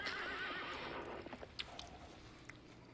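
A horse neighs loudly at close range in one long whinny, followed by a few scattered light hoof clops and taps as the call fades.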